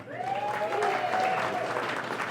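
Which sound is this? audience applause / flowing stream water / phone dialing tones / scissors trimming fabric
audience applause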